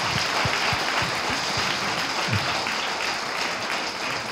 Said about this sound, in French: On peut l'applaudir. Il est en tout cas applaudi.